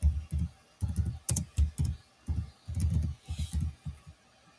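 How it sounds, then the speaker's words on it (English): Typing on a computer keyboard: clusters of close, quick key clicks in uneven bursts with short pauses between them. "I was typing stuff in the wrong spot."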